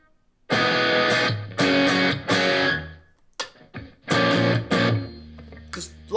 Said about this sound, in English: get a Telecaster, kind of a light distorted sounding of a guitar